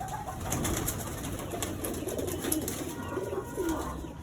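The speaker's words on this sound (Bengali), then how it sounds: "এখানে আমার অনেকগুলো কবুতর আছে এগুলো সবই দেশি কবুতর" Soft, low coos of local domestic pigeons repeat a few times against a steady background hiss, fairly close and moderately quiet.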